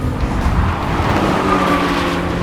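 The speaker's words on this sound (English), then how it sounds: "3, 2, 1, go! Screw you, Thomas. And the BMW's off. Come on, Audi." A BMW X3 M50 and an Audi SQ5 launch in a drag race, and engines roar loudly under broadband road noise as the vehicles accelerate hard, with a rising engine tone near the end.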